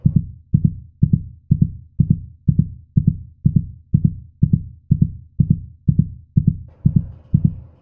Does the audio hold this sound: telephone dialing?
no